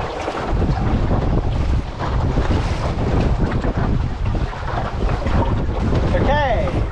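Drascombe Lugger sailboat beating upwind, with loud steady wind buffeting the microphone and water rushing against the hull throughout, plus a brief creak or whistle near the end.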